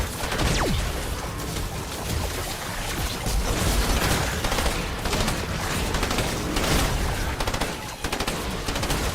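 Sustained automatic weapon fire in Fortnite Save the World, a loud, dense stream of rapid shots with occasional heavier bursts running throughout, no talking over it.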